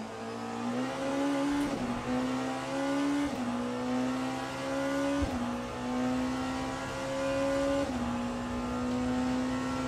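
A Porsche race car engine roars in the Le Mans Ultimate racing game: a loud, steady, high-revving drone with pitch that climbs and then drops at each gear shift, heard alone with no talk.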